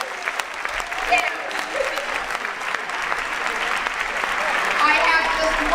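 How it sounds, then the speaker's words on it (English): School district convocation audience applauding steadily throughout, a dense wash of clapping from a large crowd that swells slightly toward the end. "Give yourself a big round of applause."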